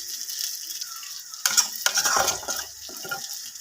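Onion paste sizzles in hot oil in a pan, added after garlic and chili paste for a tangy Assamese fish curry. A steady fry hiss swells with a burst of stirring and scraping midway, close and alone.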